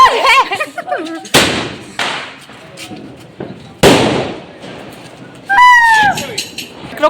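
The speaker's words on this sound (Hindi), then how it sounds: "वो उधर स्काई शॉट जला रहे हैं" Sky shot fireworks and firecrackers going off outside a house during Diwali celebrations, with several sharp broadband bursts and crackles, one rising whistle, all mixed with people talking throughout.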